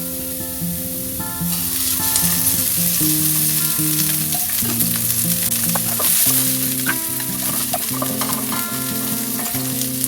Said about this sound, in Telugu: కొంచెం ఆయిల్ వేసి ఉల్లిపాయలు వేసుకోవాలి.